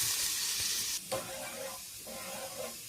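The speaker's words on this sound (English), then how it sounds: "Then we'll transfer the dal into the tadka." A dal mixture hits a hot tadka in a pan, a loud hiss of sizzling frying that dips sharply as the liquid goes in, followed by steady bubbling and stirring sounds up close.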